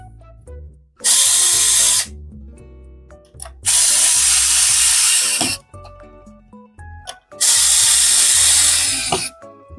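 Power tool driving bolts while assembling a PC with a Ryzen 7 9700X and an X870E Aorus Master board: three loud, close whirring bursts, each lasting one to two seconds, separated by quiet gaps with small clicks.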